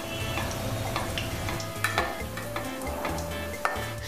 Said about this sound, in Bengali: এই মোগলাইয়ে ঠিক যে ভাজটা সেটা নিচের দিকে দেব, দিয়ে এটা এইভাবে ভেজে নেব